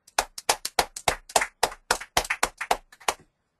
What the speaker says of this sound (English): let's give a round of applause to Krutika Reddy